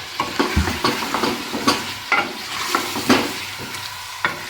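Four medium onions sizzling in oil for Sindhi biryani, a steady fry broken by repeated scrapes and stirs of a spoon against the pan, close and loud with no talking.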